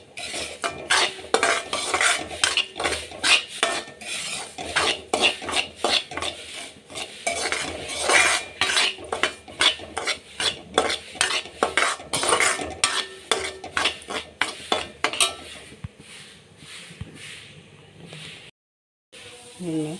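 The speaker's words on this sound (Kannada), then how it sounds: "ಇದಕ್ಕೆ ರವೆಯನ್ನು ಹಾಕಿ ಚೆನ್ನಾಗಿ ಹುರಿದುಕೊಳ್ಳೋಣ" Semolina (rava) roasts in a pan for upma while a metal spoon scrapes and stirs it in quick, rhythmic strokes, giving steady clinks and rasps over a faint sizzle before the stirring slows and stops.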